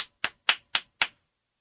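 Five sharp hand claps at an even, steady pace, close and crisp, each one short and separated by a clear gap, with silence around them.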